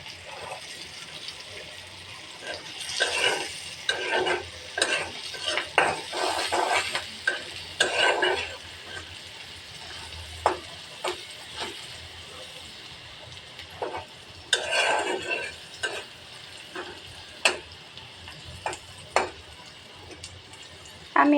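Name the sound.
stir-frying onion and chilies for egg curry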